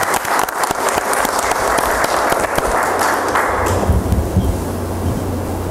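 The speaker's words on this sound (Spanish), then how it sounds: "Bien, un aplauso para" Applause fills a hall at a citizen security committee meeting: a crowd claps briskly at first, then tapers off toward the end, with no speech over it.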